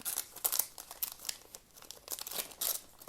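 Wrapped gift being opened, with paper crinkling and tearing close up in several quick bursts and rustles.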